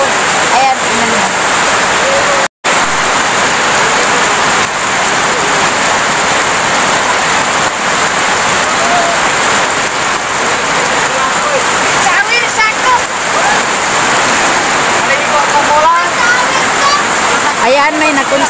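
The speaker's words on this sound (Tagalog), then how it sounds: "Tapos biglang lumakas yung ulan." Heavy rain pours down in a steady, loud, dense wash during a flood, a constant hiss of water with a brief break near the start and faint voices beneath.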